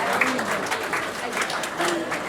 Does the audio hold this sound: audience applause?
yes